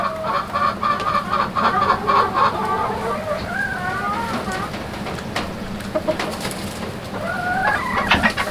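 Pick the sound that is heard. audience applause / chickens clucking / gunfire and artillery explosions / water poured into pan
chickens clucking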